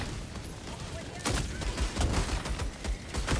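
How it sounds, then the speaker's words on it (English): Mortar fire in a video game: a dense barrage of broadband booming impacts and blasts rolls in after a quieter opening, with repeated bursts that are fairly loud but slightly distant. "Oh my god, the mortars. So many mortars."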